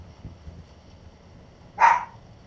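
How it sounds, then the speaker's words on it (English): A single sharp dog bark rings out near the end after a stretch of quiet low background noise, in the video game Fortnite. "he's barking at something."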